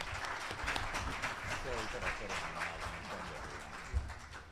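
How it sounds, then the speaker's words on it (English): Faint, even audience applause at a Philadelphia tax symposium, a soft steady patter of many hands with occasional murmured voices. "please a round of applause for them taking their time today"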